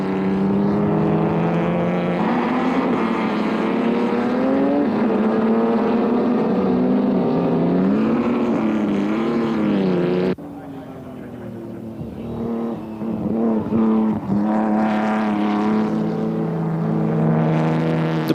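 Vintage ERA racing cars at Silverstone, engines roaring loud and close as they pass, the pitch sweeping up and down, then a sudden drop to more distant revving that builds again.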